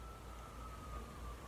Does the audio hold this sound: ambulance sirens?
yes